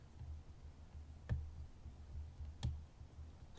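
An IFAM Rookie bike disc lock being picked gives two small, sharp clicks spaced about a second apart, close and faint over a quiet background, with no talking.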